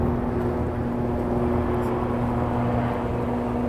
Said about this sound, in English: I think that's a filming helicopter